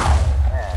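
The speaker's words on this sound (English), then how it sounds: "I greatly underestimated the utility of the explosion. Big boom!" A single short, heavy boom from an explosion in the Minecraft ATM6 modpack, dull and low-pitched, with a thud-like body.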